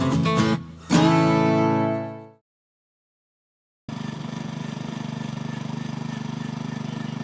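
A Honda FQ650 tiller's engine runs with a strong tonal hum, sags and cuts out after about two seconds, leaving a short stretch of silence before the engine returns at a steady, even drone.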